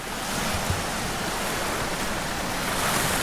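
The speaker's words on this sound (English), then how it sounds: "I even have a little waterfall over a log. Isn't that pretty? Sure sounds nice." A small stream spills in a little waterfall over a log in Michigan's Keweenaw Peninsula, a steady, close, broadband rush of flowing water with no talk.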